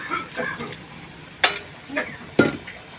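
Chicken pieces, rinsed with a splash of water, being stir-fried in a pan in a home kitchen: a soft sizzle runs underneath while a spatula scrapes and clacks against the pan in a few sharp strikes.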